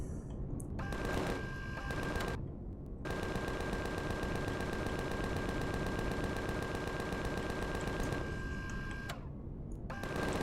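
Sustained automatic gunfire in the sci-fi survival game Empyrion, a dense continuous rattle of rapid shots with brief pauses near the start and end, loud and close with no talking over it.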